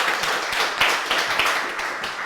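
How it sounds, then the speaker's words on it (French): A studio audience applauds the round winner of a game show with dense, close clapping that holds steady throughout a short burst. "On peut l'applaudir encore une fois."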